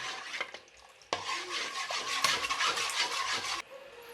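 Urad dal flour mixed with water is stirred in a pot for Noakhali-style dal, a spoon scraping and swishing in quick uneven strokes, close and moderately loud, with a quieter lull before and after the main burst.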